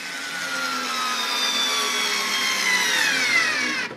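A Daewoo 3.6-volt cordless lithium screwdriver driving a screw, a steady high motor whine running for about four seconds, close and fairly loud, with the pitch drifting slightly before it stops.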